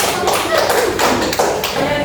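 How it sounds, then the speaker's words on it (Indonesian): Applause from a primary-school classroom for a student group after their presentation, a dense, steady patter of many hands clapping close by, filling the whole moment with chatter mixed in. "Kasih tepuk tangan dulu dong."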